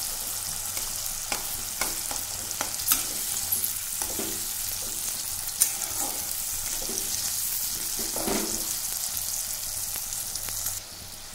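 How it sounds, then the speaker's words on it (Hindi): Peas fry in a pan with a constant close sizzle, punctuated by occasional scrapes and knocks of a spoon stirring them, steady throughout with no talking. "मटर को अच्छा से मिक्स कर दे रही हूँ"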